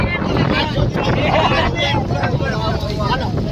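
Strong wind buffeting the microphone in a constant loud roar at a river while bathing, with splashing water and voices mixed underneath.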